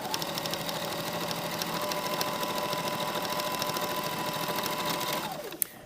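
A sewing machine stitches the side seams of a skirt in one loud, steady, fast run that slows and stops near the end, followed by a single sharp click.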